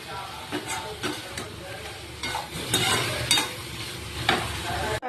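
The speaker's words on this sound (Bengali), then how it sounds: "একটু করে জল দেব আর কষিয়ে নেবো" A spatula stirs soybean curry with chopped garlic in a pan as a splash of water is added, producing close, steady sizzling and frying hiss with repeated scraping strokes.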